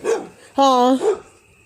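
A dog barks once, loud and close, in a residential neighborhood of old shotgun houses, with someone talking just before and after the bark.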